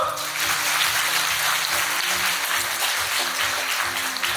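An audience at the Incheon Airport vision ceremony applauds, a steady, full wash of clapping running evenly throughout, with a low rhythmic pulse of music underneath.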